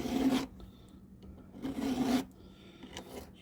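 A hand file sharpens a chainsaw chain cutter in two distinct rasping strokes with a quiet pause between them, close and dry.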